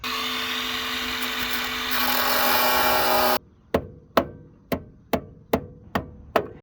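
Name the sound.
cutting relief cuts in car body metal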